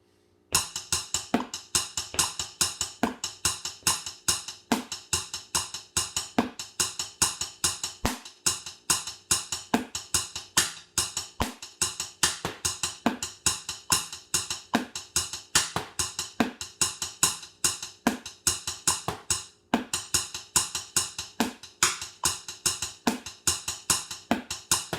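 Practice snare drum pattern for a sixth-grade percussion exercise, right and left strokes followed by a right-hand rim shot, played at about 80 beats per minute; steady, evenly spaced sharp hits with recurring accents, close and alone.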